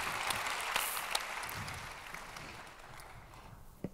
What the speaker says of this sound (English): Let's give an applause to Mirian